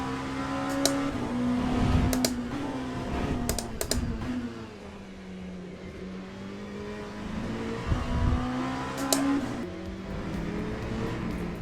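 Race car engine in a racing simulator game droning and shifting pitch through revs over about eleven seconds, with sharp clicks and taps like keys or controls breaking in at intervals; no talking.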